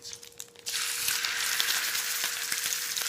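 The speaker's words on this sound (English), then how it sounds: "now I'm going to add the chorizo in there" Chorizo hits a hot pan with shallot and cilantro and bursts into a loud, continuous sizzle that holds steady after a few light clatters at the start.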